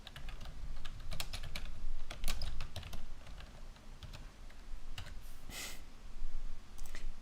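Fast, loud clacking on a computer keyboard comes in quick irregular bursts of sharp key strikes, close to the mic, with short pauses between flurries and no speech.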